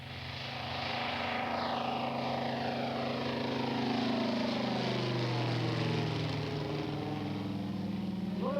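Grumman Wildcat propeller fighter taking off, its radial engine droning loud and steady with shifting pitch sweeps as it passes and climbs away.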